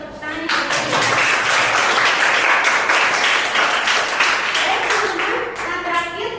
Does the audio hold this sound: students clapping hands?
yes